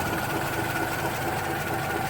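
A 1988 Volga 24-10 car engine idles with a steady, even hum and fine mechanical chatter, close up and continuous without talk.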